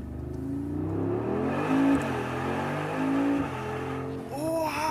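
A Brabus Rocket G900, a 900 hp Mercedes G-Class, revs hard with a deep rising and falling engine roar, loud and close, then a higher whine near the end, with no talk.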